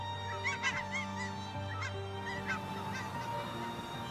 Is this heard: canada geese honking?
yes